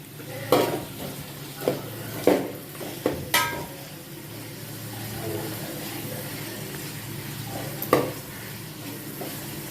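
Sliced onions sizzling in a pan for vegetable biryani, a soft steady fry broken by several sharp scrapes and clanks of a spoon stirring, fairly quiet and close.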